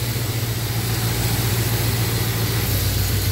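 A car engine idling on a Holley carburetor, set to a low idle speed, a loud steady rumble with an even low throb, close and continuous with no voices.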